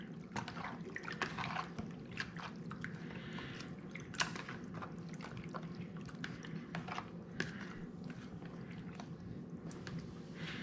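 Raw squid and soy sauce are stirred by hand, with soft wet squishes, drips and small clicks repeating irregularly at close range and low volume.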